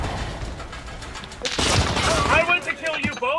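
Gunfire in a first-person shooter game breaks out partway through, a dense burst of rapid shots layered with people talking and shouting over it.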